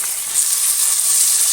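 Onion sautés in a hot pan with curry leaves, garlic, cloves and cardamom, giving off a loud, steady sizzling hiss with no pauses.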